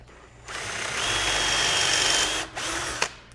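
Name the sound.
power drill drilling wood with a jig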